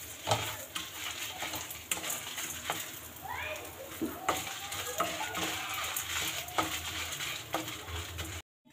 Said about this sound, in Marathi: तुरीची डाळ हे छान भाजून घ्यायचं आहे। आता हे छान लाल झालेत। आता यात आपण सुक्या मिरच्या घालूया।